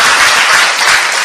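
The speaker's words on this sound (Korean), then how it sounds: "이거 박수 치구나." An audience at a patriotic lecture in Daegu claps in loud, dense applause that holds steady for the whole short stretch, with no voice over it.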